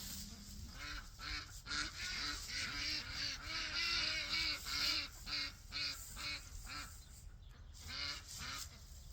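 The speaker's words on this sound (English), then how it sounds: "Oh, look, the ducks are going to join us too." Ducks honking and quacking in repeated bursts, a busy flock calling close by against steady outdoor background noise.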